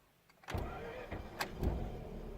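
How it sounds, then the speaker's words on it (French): A Mazda RX8 rotary engine restarts while hot after a short road test, the starter cranking briefly before the engine catches and settles into a steady, close rumbling idle. "Et on va faire un petit démarrage à chaud après un test routier de quelques kilomètres."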